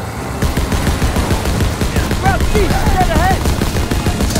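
Rapid machine gun fire in Call of Duty WWII rattles loudly and continuously during a vehicle fight, dense bursts overlapping with engine noise while a soldier shouts over the din.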